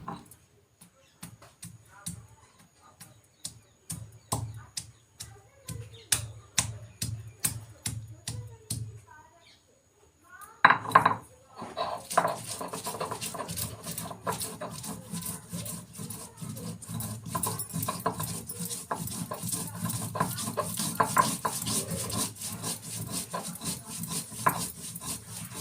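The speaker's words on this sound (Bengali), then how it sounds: "মশলাটা বেটে নেব।" A spice paste of green chilli, ginger and cumin being ground, first with distinct rhythmic rubbing strokes and then with a steadier, denser rasping that goes on close by.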